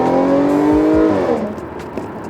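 An Audi S4 with an APR tune revs hard, its engine note climbing loudly for about a second before easing off, close and alone with no talk.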